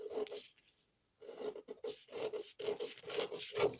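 Scissors cut through paper for an asymmetrical dress and corset pattern with short rasping strokes in quick runs, one brief pause, and no talk.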